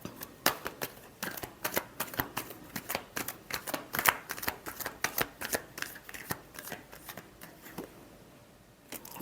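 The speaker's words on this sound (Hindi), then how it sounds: "Last shuffle." Tarot cards being shuffled by hand, a rapid run of crisp riffling and snapping bursts in a steady rhythm, close and fairly quiet, thinning out toward the end.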